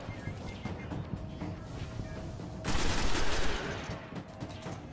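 Gunfire in the video game Destiny, a dense continuous crackle of shots that swells into a louder burst midway before easing back, close and steady throughout with no talk.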